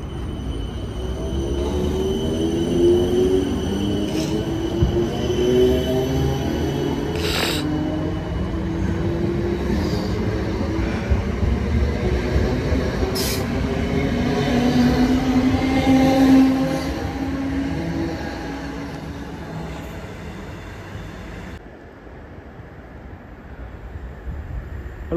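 Train pulling away from Raynes Park station, electric motor whine rising in pitch over rumbling wheels, growing louder then fading into quieter ambience.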